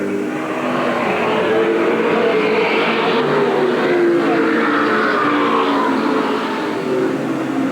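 Race cars roar around the track at Eugene Speedway in 1987, a loud continuous engine drone with rising and falling pitch as cars pass, no clear voices.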